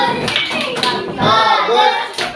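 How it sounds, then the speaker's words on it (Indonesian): Fifth-grade pupils in a primary school classroom clap together for a group that has just presented, a loud, dense burst of rhythmic applause mixed with children's voices. "kita berikan tepuk tangan untuk kelompok satu"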